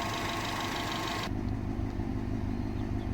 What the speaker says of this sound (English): the sound this engine makes and the sound the exhaust makes, you know, is great for a stock sounding motor